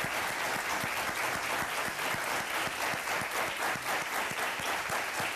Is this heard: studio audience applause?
yes